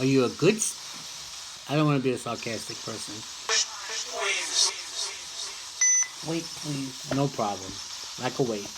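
Chicken frying in a pan sizzles with a steady hiss beneath frequent nearby talking, the crackle persisting through pauses in the voices.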